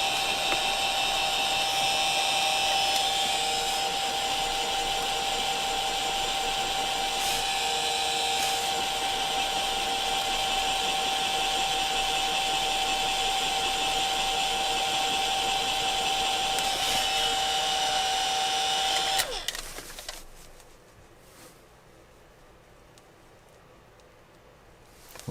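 A heat gun runs steadily at close range for about nineteen seconds while softening a Volkswagen Mk6/Mk7 shift knob being fitted to a Mk5 Eos, then shuts off and the whine fades to quiet.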